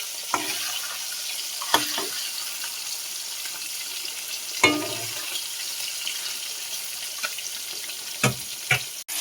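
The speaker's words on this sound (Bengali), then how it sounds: "তেল গরম হয়ে গেছে, আবার মাছগুলো ভেজে নেব।" Fish pieces fry in hot oil with a steady, fairly quiet sizzle, broken by several sharp clinks and scrapes of a utensil turning them in the pan.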